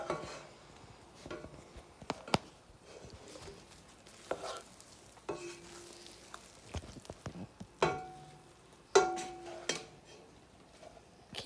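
Food stirring and melting in a pot on a home stove, with scattered scrapes and utensil knocks against the pot over a faint sizzle and several sharper clinks.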